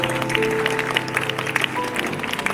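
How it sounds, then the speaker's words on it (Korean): Wedding guests applauding the bride's and groom's parents at a Korean wedding ceremony, a steady wash of clapping mixed with hall music and background noise, moderately loud throughout. "부모님께 인사 크게 박수 주시기"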